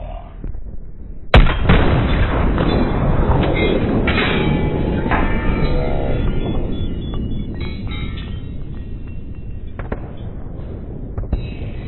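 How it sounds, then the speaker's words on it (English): Artillery barrage in the video game Battlefield 1, opening with a sharp blast followed by a sustained loud roar of rumbling explosions and scattered gunfire, dense and continuous throughout. "Enemy coordinates have been sent to our artillery."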